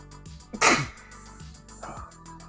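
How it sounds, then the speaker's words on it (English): A single sudden sneeze bursts out close to the microphone, short and forceful, with quiet breathing around it. "Oh, I'm gonna sneeze."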